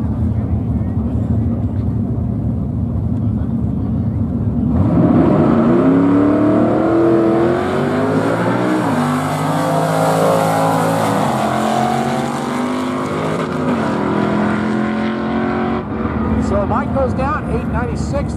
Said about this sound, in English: Andy Bono out of Oceanside in that beautiful 55 Chevy